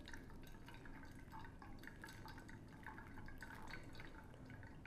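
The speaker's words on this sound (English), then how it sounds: "So I'm gonna do my second 75 gram pour here." Pour-over coffee brewing with a second 75-gram pour of water: a thin, steady trickle and patter of liquid into the grounds, continuous and fairly quiet, with small drips ticking over the flow.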